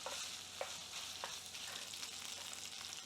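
Half a diced onion sizzles in a pan with browning meat, a steady close frying hiss broken by a few soft stirring scrapes.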